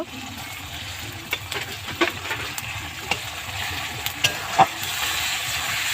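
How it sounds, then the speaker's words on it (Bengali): Tomatoes frying in a pan for a country chicken curry: a continuous close sizzle broken by several sharp scrapes and clacks of stirring. "আর একটু ভেজে নেব"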